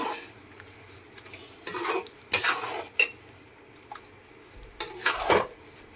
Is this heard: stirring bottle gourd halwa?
yes